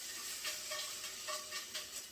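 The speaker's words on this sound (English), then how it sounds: "y'all hear that sizzling?" Steady, close crackling sizzle of chicken frying in hot oil, with soft pops rising and falling, no voices.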